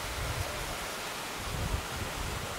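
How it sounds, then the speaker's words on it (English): Steady wind blows outdoors across a farm mini golf course, a constant broadband rush with low gusty buffeting swelling and fading, no voices present. "The wind is back."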